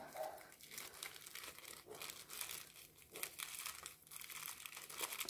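A crinkly bag is squeezed and stuffed as things are pushed back into it, giving near continuous, faint crinkling and rustling in short bursts with brief pauses between handfuls.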